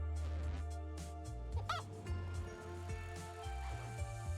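A hen clucking in the video game A Space for the Unbound, short agitated clucks with one rising squawk, set among game music and ambient tones.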